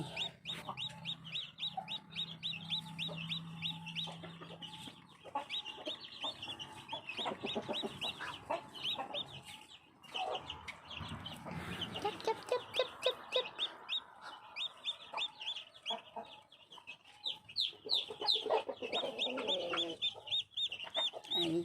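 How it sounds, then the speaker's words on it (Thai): Newly hatched black chicks peep in rapid, high-pitched chirps nearly nonstop, with a few low clucks and a soft voice briefly underneath, close by. "ไก่ก็เพิ่งออกมาจากฟองวันนี้เองนะคะ"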